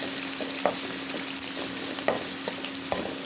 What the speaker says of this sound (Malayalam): നമ്മൾ ഈ സവാള നന്നായിട്ട് ഇളക്കുക. പച്ചമുളകും ഇഞ്ചിയെല്ലാം നന്നായിട്ട് വഴറ്റി കൊടുക്കണം.